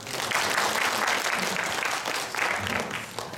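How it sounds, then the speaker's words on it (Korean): A congregation at a Korean church Sunday worship service gives a warm, full round of applause to welcome first-time visitors, the clapping steady and close throughout. "박수 한번."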